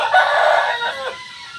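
A rooster of oriental or asil breed crows once, loud and close, the call rising and then trailing off.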